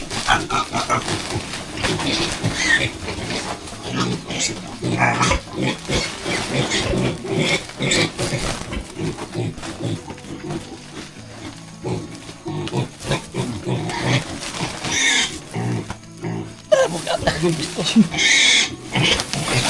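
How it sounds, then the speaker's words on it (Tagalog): Piglets squealing and oinking on a farm, dense overlapping squeals near and loud throughout, with people talking over them. "Mga biik eh."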